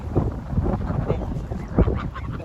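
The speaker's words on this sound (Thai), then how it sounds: "เป็ดหัวเขียว เป็ดลาย เป็ดหัวดำคอลาย" Several mallards and other ducks quack in overlapping, raspy calls close by, repeated bursts against a constant background hiss.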